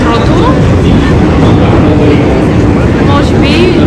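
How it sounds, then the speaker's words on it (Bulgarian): A Paris metro train arrives at the platform with a loud, steady rumble and screech of wheels on rails, close and dominant, while voices murmur underneath. "Ето това представлява метрото."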